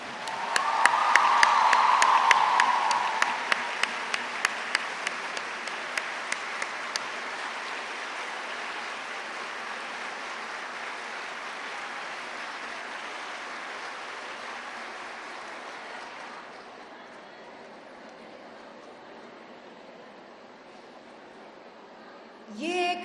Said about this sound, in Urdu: وہ کھڑے ہو کر بھرپور تالیوں میں شیخ صاحب کو اسٹینڈنگ اوویشن دیں۔